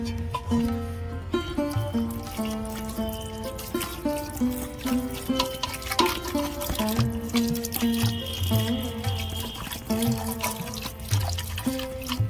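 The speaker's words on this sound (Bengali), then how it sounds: "অল্প অল্প জল দিয়ে আমি ভালো করে ধুয়ে নেব।" Water trickles and splashes while chhena is rinsed little by little in a kitchen, steady sink-like pouring and dripping for the whole stretch under a tonal background.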